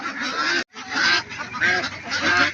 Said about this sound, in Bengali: আজকে দেখেন কত সুন্দর সুন্দর হাঁস গাইস, অস্থির হাঁস